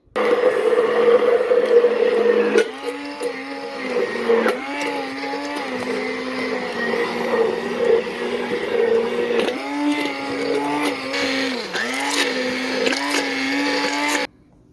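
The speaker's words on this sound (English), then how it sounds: "I'm going to use my immersion blender and just mix it in this mason jar" An immersion blender whirs continuously inside a mason jar, its motor pitch dipping and rising as it churns thick contents, loud and close, then stopping abruptly.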